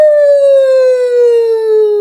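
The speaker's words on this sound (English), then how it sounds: "It's called a full range vocal swoop" A single loud voice exercise: one sustained vocal swoop gliding slowly downward in pitch with a bright, siren-like tone, steady and close for the whole stretch.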